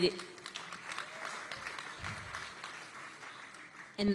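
Faint, distant applause from an audience at a San Francisco gala, a soft continuous patter of many hands heard alongside a speaker's voice.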